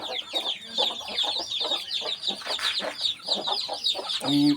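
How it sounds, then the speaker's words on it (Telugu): Busy chorus of hens clucking and chattering nearby, overlapping in quick irregular bursts with higher chirps mixed in, and no human voices. "ఉన్నాయి మన కాడ చాలా పెట్టలు"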